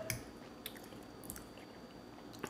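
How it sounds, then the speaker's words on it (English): Faint close-up mouth smacking and wet chewing while eating vegetables, soft squishy clicks and lip smacks at irregular intervals against a low background hiss. "I was about to apologize for smacking my mouth"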